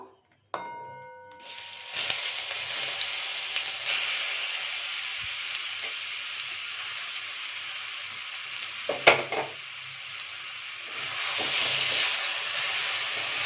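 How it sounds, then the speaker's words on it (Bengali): Grated hog plums (amra) are fried lightly in a pan. After a quiet start, a steady close sizzle hisses on, broken once by a sharp clatter of a utensil against the pan. "হালকা করে একটু ভেজে নেব"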